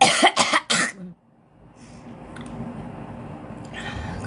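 Someone sick with flu gives three or four harsh, close coughs in a quick burst, followed by quiet room noise.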